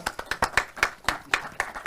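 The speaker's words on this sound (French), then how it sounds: "On peut l'applaudir aussi." An audience claps in a steady rhythm, the sharp, close claps repeating about every quarter second, with no other sound.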